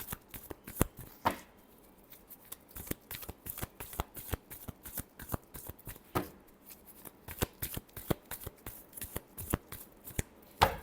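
Tarot cards being shuffled by hand: a quick run of crisp riffles and slaps repeating in an uneven rhythm, close and fairly quiet, with no talking.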